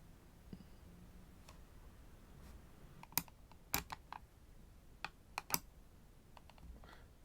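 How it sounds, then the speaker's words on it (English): Keys tapped on a computer keyboard attached to a Raspberry Pi running Windows 11, as scattered sharp clicks with short bursts and pauses between them, close and fairly quiet against a faint background hiss. "let's just see what the typing's like."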